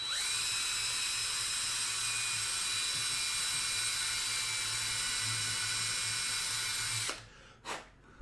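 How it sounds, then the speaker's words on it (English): Cordless drill boring a hole at a marked spot during a Four Star 40 model plane build: a steady high-pitched motor whine held for about seven seconds, then cutting off, followed by a couple of brief spin-ups. "center line and drill away."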